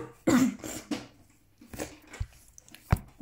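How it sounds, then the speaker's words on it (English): A few sharp coughs and throat-clearing bursts, close and fairly loud, separated by short quiet gaps. "I'm gonna cough again"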